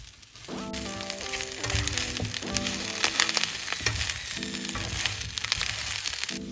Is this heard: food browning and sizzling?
yes